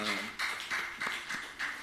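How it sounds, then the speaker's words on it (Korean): Church congregation clapping together during a Sunday morning service, a burst of applause with rhythmic surges of hand claps every half second or so, fairly close and filling the room. "하나님께 영광의 박수 올리겠습니다."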